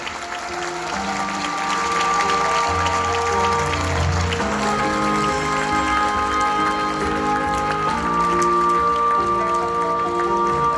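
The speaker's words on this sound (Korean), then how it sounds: "여러분 큰 박수로 맞이해 주십시오." An audience applauds city mayors walking onto the stage at the Culture City of East Asia 2019 closing ceremony in Incheon, a loud sustained patter of clapping over sustained musical tones, with no speech.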